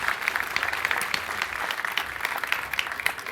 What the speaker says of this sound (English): A warm welcome and a big applause for our speaker.